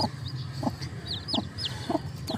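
Crossbred chickens from wild and native stock cluck in short repeated bursts nearby, with a few higher chirps mixed in and no talking.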